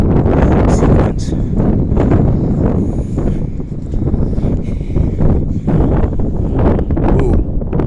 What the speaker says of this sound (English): that wind is just freaking cutting into me